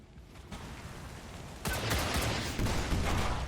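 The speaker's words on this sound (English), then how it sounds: "Guarantee a kill with some micro missiles, so I might just do that." Micro missiles fire in the tactical game XCOM 2 as a quiet lead-in suddenly breaks into a loud, rapid, crackling volley of launches and impacts that rolls on for about two seconds.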